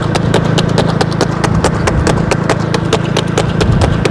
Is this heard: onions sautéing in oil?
no